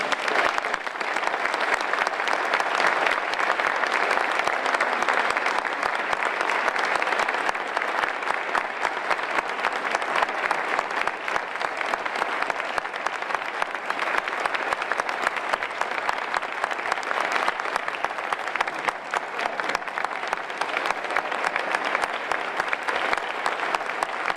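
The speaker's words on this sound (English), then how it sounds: "so you give him a round of applause" A crowd applauds steadily for a full stretch as Dr. Neville Pinto is announced as the new president of the University of Cincinnati; dense, even clapping with no break, filling the room.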